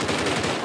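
Gunfire from a GTA 5 armored car security patrol shootout, a dense, continuous burst filling the short moment at steady loudness, close and unbroken.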